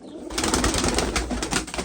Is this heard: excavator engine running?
no